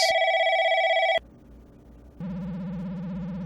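A telephone rings inside the video game Replica, a loud steady electronic ring with stacked harmonics that cuts off abruptly, followed by a brief quiet gap and then a wavering electronic tone.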